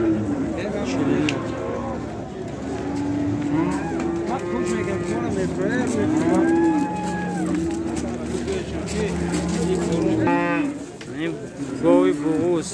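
Cattle at a livestock market moo loudly and repeatedly over a busy crowd, with people talking continuously around the animals and one more call near the end.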